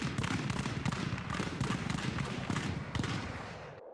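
A ragged volley of musket fire from a line of soldiers in The Glorious Cause, a rapid crackling cluster of many overlapping shots over about four seconds that tails off at the end.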